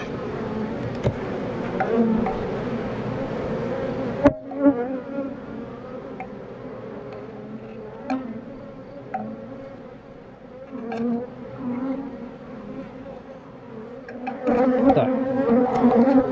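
Dense, steady buzzing of many honeybees close by at hives, a continuous droning swarm with occasional louder passes of individual bees.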